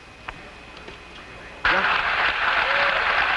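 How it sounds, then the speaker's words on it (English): Loud applause and cheering break out suddenly in Apollo 13 Mission Control at splashdown, following a quieter stretch with a faint tone and brief thumps, then continuing as a dense, sustained roar. "An extremely loud applause here in Mission Control."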